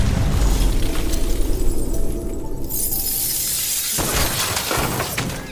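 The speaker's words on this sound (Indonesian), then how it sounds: "dicegat oleh Ray dengan senapan panjang yang menghancurkan kaca mobilnya" Car window glass shattered by a long rifle's gunfire, a loud crashing shatter with burst-like impact, followed by a scattered tinkling spray of breaking glass, close and without talk.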